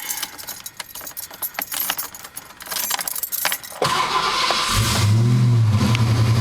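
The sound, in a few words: Ford Mustang engine starting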